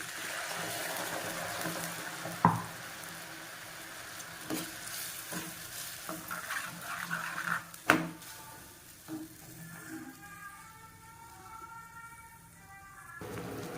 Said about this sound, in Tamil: இப்போ இதில் ஒரு அரை கப் தண்ணி ஊற்றிக்கிறேன்